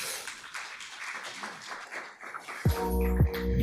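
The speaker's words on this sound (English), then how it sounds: "Clap it up one time for her, man" Applause from an audience at an open mic poetry night, broad scattered clapping filling the room for a few seconds before a sustained tonal music-like sound takes over near the end.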